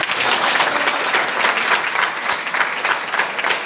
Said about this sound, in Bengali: এটা জোরে হাততালি হওয়া উচিত